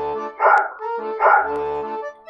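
A cartoon dog barks twice in an animated children's tale, two loud, close, tonal barks with a short gap between them and a low voiced sound in the pause, with no talking.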